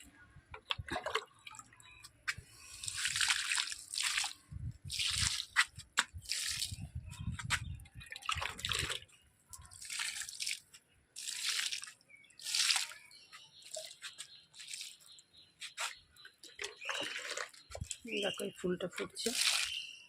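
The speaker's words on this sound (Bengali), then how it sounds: "চলো গাছে জল দিয়ে আসি" Water splashing and dripping while plants are watered on a sunny rooftop, intermittent bursts of spatter and trickle under frequent nearby talk.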